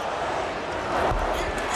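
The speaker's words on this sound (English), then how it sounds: "you hear the chant of Kobe from this crowd here at Staples" Staples Center basketball crowd at a Lakers–76ers NBA Finals game chanting for Kobe, a loud, dense, continuous roar filling the arena with no clear individual voices.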